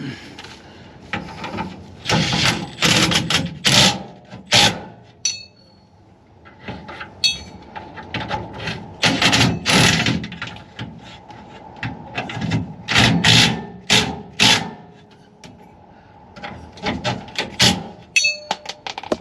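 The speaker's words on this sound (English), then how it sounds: "Okay, tighten these up." Tightening bolts on the spare tire hoist of a 2000 Ford F-250: repeated bursts of a ratchet and socket clicking and rubbing, close up, in irregular spells with pauses between them.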